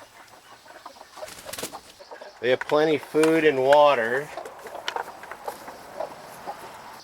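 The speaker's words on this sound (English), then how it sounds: "we're going to let the chickens out" Chickens cluck and squawk nearby in a brief noisy burst, with a person talking before and after amid rustling.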